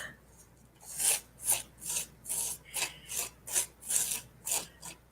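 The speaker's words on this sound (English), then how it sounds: "I'm going to use the palette knife to apply it here." A palette knife drags acrylic paint mixed with gritty pumice gel across a surface, about ten rhythmic, scratchy rasping strokes, close and fairly loud, with no talking.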